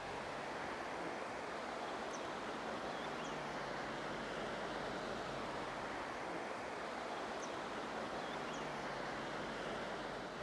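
The River Ogmore in Glamorgan, Wales, flows with a constant soft rushing wash, fairly distant and even throughout, with no voices over it.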